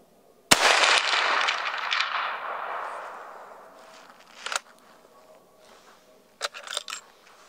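A rifle fitted with an iRay Geni GL 35R thermal scope fires at a target: one sharp, loud shot rings out and decays over several seconds. A few fainter clicks and knocks follow later.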